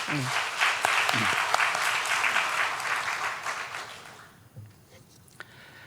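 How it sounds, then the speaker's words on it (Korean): A Sunday church congregation claps to welcome a returning member, with dense applause and a few nearby voices over it, tapering off after about four seconds into a quieter room. "우리 박수로 환영하겠습니다."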